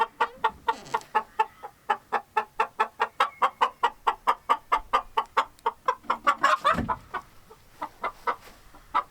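A hen in a nesting box clucks in a fast, steady run of sharp, evenly spaced calls, close and loud, with a brief rustle near the end before the clucking resumes more sparsely.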